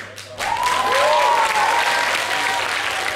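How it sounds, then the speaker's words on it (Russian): Applause bursts from an audience at a welcoming event in Mykolaiv, rising sharply after a brief quiet moment and continuing as a full, steady clapping wash with some crowd noise beneath. "Ваши аплодисменты."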